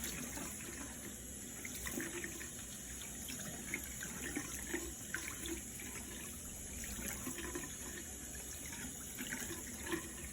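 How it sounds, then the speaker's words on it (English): Tap water running steadily over hands at a sink while soap is rinsed off, a continuous close splashing hiss with no break. "Just run your hands under the water"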